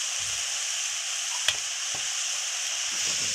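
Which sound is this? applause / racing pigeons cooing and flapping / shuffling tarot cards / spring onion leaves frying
spring onion leaves frying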